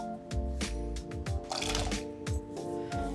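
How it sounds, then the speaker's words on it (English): Several wet plops and splashes as diced potato chunks drop into boiling water one after another, irregular and close, with a steady hum behind. "Now scoop those up into some boiling water."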